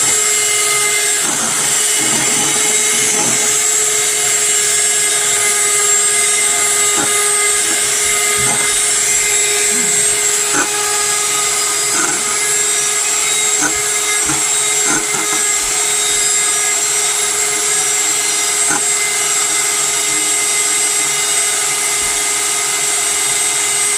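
A handheld electric mixer beats cream in a bowl at home, a steady, loud motorized whir that runs continuously without pause, with small clicks and shifts in tone as the beaters move through the thickening cream.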